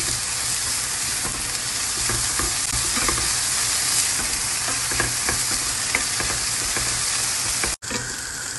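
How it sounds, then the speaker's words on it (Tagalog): Onion sautéing and being stirred in a pan for chicken with mushroom cream and parmesan, a steady loud sizzle running the whole time with scraping stir sounds scattered through it and one brief break near the end. "igisa na ulit natin yung sibuyas"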